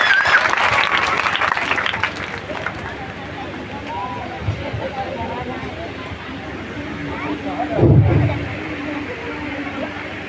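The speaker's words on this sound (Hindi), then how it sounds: "एक बार जोरदार तालियां सबके लिए लगनी चाहिए।" Loud crowd applause at a Teacher's Day school gathering opens the stretch, then fades under a general hall murmur and brief voices, with a louder burst of noise near the end.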